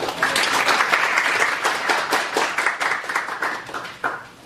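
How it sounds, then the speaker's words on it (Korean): Steady audience applause greeting a company CEO invited as lecturer at a Korean seminar on the Fourth Industrial Revolution, dense even clapping that thins toward the end, with no talking over it. "정무철 대표이사님을 박수로 맞이해 주시기 바랍니다"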